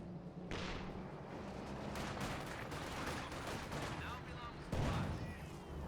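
Battlefield gunfire in the World War II strategy game Company of Heroes 2, a rumbling wash of distant shots and blasts with a few sharper bursts, heard faintly beneath steady game noise.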